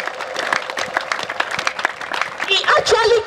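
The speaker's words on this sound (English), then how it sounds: "can you give a round of applause, a clapping ovation to the fortress of our salvation?" Applause and clapping from a crowd at a coronation ceremony for Chinwe Ozere in Ottah-Igbanke, a dense, steady patter of many hands lasting throughout, with a voice speaking over the last stretch.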